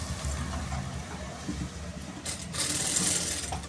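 A sewing machine running steadily while stitching blouse lining, a soft close mechanical whirring and clatter with a slight rise in intensity near the end, no voices.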